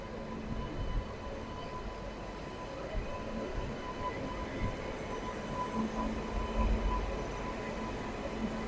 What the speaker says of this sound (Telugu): చూడండి, ಯಾವುದೋ ట్రైన్ వస్తూ ఉంది, ప్లాట్ఫామ్ నెంబర్ 2 యశ్వంతపూర్కి